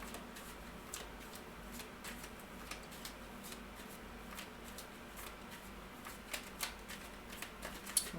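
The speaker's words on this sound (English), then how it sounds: "give them a good shuffle." A Hanson Roberts tarot deck is shuffled in a quiet room, soft close riffling and card snaps, faint and alone.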